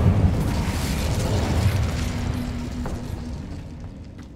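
A fire spell in Hogwarts Legacy erupts in a loud, sustained blast, a heavy rumbling roar filling the whole stretch and slowly fading toward the end.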